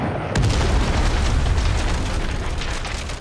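Airstrike explosion in the Far Cry 5 video game, a loud sudden boom that rolls into a long rumbling, crackling blast filling the whole stretch, with no talking.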